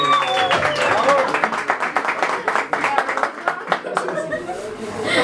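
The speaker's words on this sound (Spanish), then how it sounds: "¡Un aplauso!" Group applause at a birthday party with mariachi musicians, a burst of close hand clapping that fades unevenly, mixed with chuckles and voices talking underneath.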